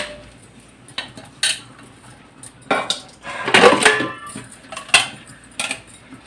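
Lunch dishes are washed at an outdoor well, with steel pots, plates and cutlery clanking and clinking close by in irregular bursts, loudest in a cluster of rattling knocks midway, with no talking.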